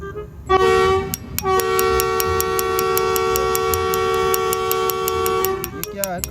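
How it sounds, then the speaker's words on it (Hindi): A train passes with a long, loud sustained horn blast held for several seconds over rumbling wheel noise, with people talking around it. "ये क्या है? खड़का किसका है यार?"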